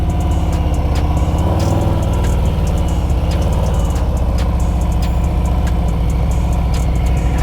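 A motorcycle engine runs steadily at low revs during slow riding practice, a continuous loud mid-to-low drone with slight surges in pitch throughout, with no talking over it.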